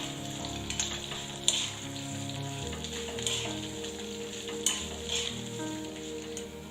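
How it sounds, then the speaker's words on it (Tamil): A large onion fries in a pan with chillies and coriander, giving a steady close sizzle and crackle with a few sharp stirring clinks scattered through. "மல்லி மிளகாய் எல்லாம் நல்லா ஃப்ரை ஆனதுக்கு அப்புறமா இதுல ஒரு பெரிய வெங்காயத்தை சேர்த்துக்கலாம்."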